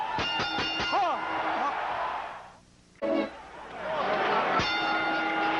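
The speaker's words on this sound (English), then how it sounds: "We bring you back for round 2, and you hear the bell." A boxing ring bell clangs several quick strikes to open round two of a 1986 Mike Tyson versus James Tillis heavyweight fight, ringing out over a loud arena crowd that briefly dips, then surges again with another bell strike near the end.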